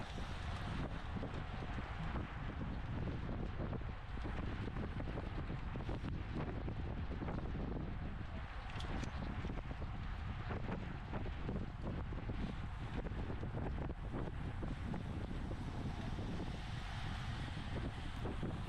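Steady wind buffets a microphone on a bicycle as riders climb slowly uphill into a headwind during an amateur road race, a constant low rushing roar with no pauses and no voices.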